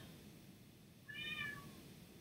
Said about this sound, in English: If you hear my cat, I'm sorry.